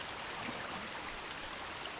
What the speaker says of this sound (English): Fantastic waterfall and another deep pond.